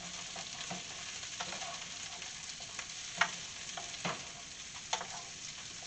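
Onion and garlic sizzle steadily in oil in a pan while a utensil stirs them, with occasional soft scrapes and taps over a quiet, continuous frying hiss.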